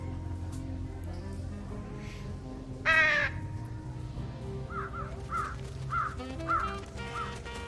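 Crows on a TV antenna in the video game Trüberbrook give a loud caw followed by a series of shorter calls over a steady ambient game background.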